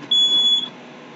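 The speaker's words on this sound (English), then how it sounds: "And there goes the smoke detector again." A smoke detector in a workshop goes off near a leaking fume extractor, giving a single loud, piercing electronic beep of about half a second over faint background hum.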